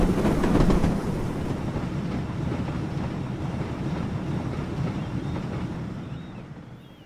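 An E4 class 0-6-2 tank locomotive runs steadily in Train Simulator on a period branch line, a continuous low rumble with faint rail clatter that eases slightly toward the end.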